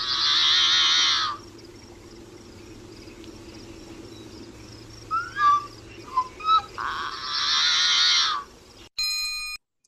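Yellow-headed blackbird calls near Lake Tahoe: a harsh, buzzy rasping song, then a few sharp clicky notes and a second strident buzzing burst, clear over a faint low hum.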